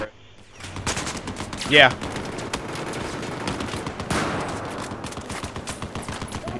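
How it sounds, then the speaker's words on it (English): Heavy machine gun fire from a turret in the video game Battlefield 4, rapid bursts ringing out amid other gunfire and battle noise, with one sharp louder burst and players talking over it. "Someone has a big machine gun. He must be on top of one of those damn turrets."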